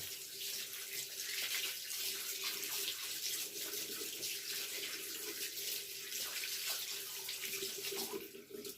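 Water runs steadily from a tap into a basin for several seconds, a continuous close hiss and splash with no talking over it.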